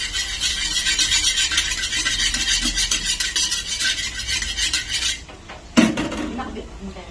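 Garlic and onion sauté with pork fat in a pan for pinakbet, a loud close sizzle with a metal utensil scraping and clattering steadily, then the frying fades and a sharp clank of the pan follows.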